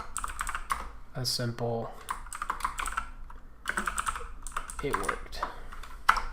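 Rapid clicky computer keyboard typing as Java code is written, quick bursts of keystrokes mixed with someone talking over them.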